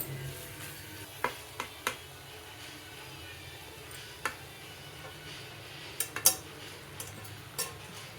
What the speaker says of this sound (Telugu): స్టవ్ ఫ్లేమ్ సిమ్లో పెట్టుకొని కొద్దిసేపు వేయించుకోవాలి ఇలా వేగినాక దీంట్లో బొరుగుల్ని వేసుకోవాలి